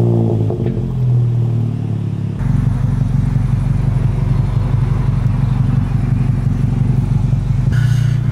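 A 500-horsepower Volkswagen GTI engine cranks and catches, then settles into a loud, steady rumbling idle with a brief rev near the end.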